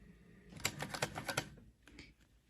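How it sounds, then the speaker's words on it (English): A sewing machine runs a quick line of stitches across the bottom of fabric held with double-sided tape, a close rapid burst of about a second followed by quiet. "stitch across the bottom where the double-sided tape was"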